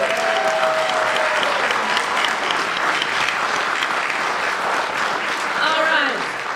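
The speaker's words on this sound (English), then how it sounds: "I love the applause part." Sustained audience applause at a pitch competition in Kirkland, a dense steady clapping that holds loud and even throughout, with a few faint voices and a brief whistle-like tone in the crowd.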